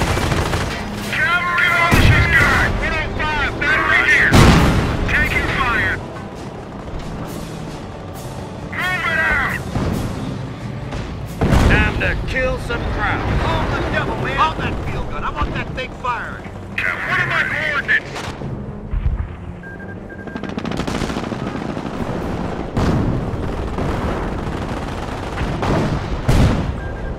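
Gunfire and artillery in Company of Heroes, a battle: rapid bursts and single shots crackle throughout, with heavy booming blasts at intervals. Radio-style unit voices call out over the fighting.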